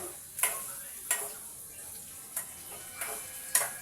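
Onions, garlic and chilies frying in a pan for red lentil dal make a soft steady sizzle, broken by about five sharp metallic taps of a stirring spoon.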